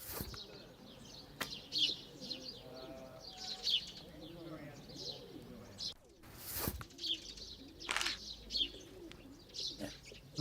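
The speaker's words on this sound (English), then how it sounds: "Yeah, birds." Outdoor birds chirp and pigeons or doves coo in repeated short calls, fairly faint, while someone talks over them at intervals.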